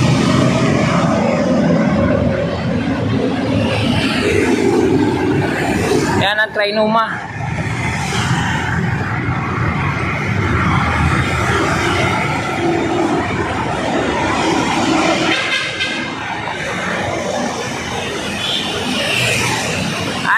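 An MRT train runs along the elevated line over EDSA near North EDSA, its rumble mixed with heavy road traffic noise, while someone speaks over it.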